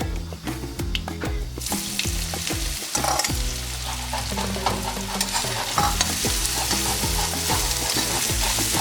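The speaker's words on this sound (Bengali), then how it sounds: "তেলের মধ্যে করলাটাকে ভালো করে নাড়াচাড়া করতে হবে, ধিমে আঁচে এটাকে ধীরে ধীরে করে ফ্রাই করতে হবে।" Bitter gourd slices coated in spices frying in hot oil over a low flame, a steady loud sizzle with a spatula repeatedly scraping and stirring through the pan, close up and without talk.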